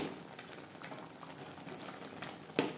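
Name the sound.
tomatoes simmering in their own juice for tomato chutney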